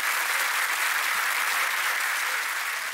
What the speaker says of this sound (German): Großen Applaus für dich.